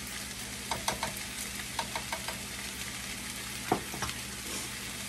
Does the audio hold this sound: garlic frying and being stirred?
yes